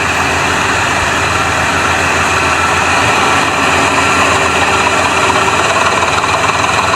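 Massey tractor engine running steadily while pulling an 18-foot trolley, a loud, unbroken low diesel drone close by with constant vibration and no talk.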